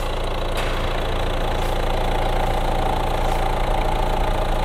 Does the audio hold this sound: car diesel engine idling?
yes